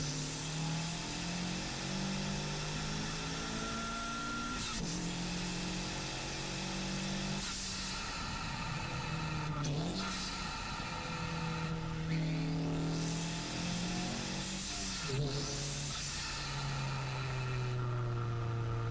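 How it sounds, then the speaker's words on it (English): Honda Civic Type R FL5 with a PRL intake, engine and turbo working hard in R mode: repeated revving climbs through the gears with sharp shift breaks, whooshing turbo noise and steady loud engine drone, close up with no talk. "the idea here was to kind of hear what the engine's doing, what the turbo's doing"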